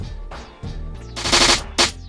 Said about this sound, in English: And these are the snares.